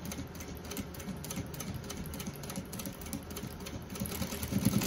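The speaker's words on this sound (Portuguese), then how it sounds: "E vamos passar uma costura." Sewing machine stitching a seam on a fabric pencil case, a fast, even, close mechanical whir with rapid ticking needle strokes that grows slightly louder toward the end, no speech.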